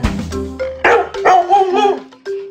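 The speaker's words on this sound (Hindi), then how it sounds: "नहीं बाटलीटो, ये कुत्ते की आवाज है।" A dog in a Hindi children's nursery rhyme barks and yelps in a short run of close, loud calls, some drawn out into a brief howl-like whine, with no talk over it.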